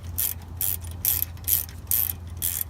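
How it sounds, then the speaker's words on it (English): A ratchet tightens a rear brake caliper bolt on an Acura TSX, giving five quick bursts of crisp pawl clicking in a steady back-and-forth rhythm, close and clear with no talk. "And then I'm gonna tighten up the bolt on the outside"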